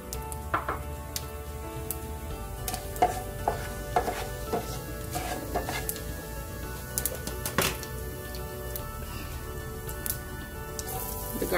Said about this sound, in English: I'm going to start by adding the mustard seeds, wait for them to splutter